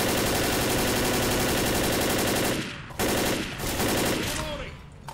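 Assault rifle fire in the Left 4 Dead zombie shooter: loud, dense sustained automatic bursts, broken briefly after about two and a half seconds, then resuming and tailing off near the end.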